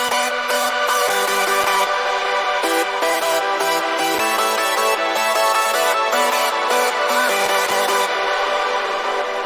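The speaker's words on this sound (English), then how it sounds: "So this brings the the dirty sound you hear." A dirty hardstyle synth lead layer with a noise LFO, loud, buzzy and gritty, playing a choppy melodic line with rhythmic gated stabs and no voices.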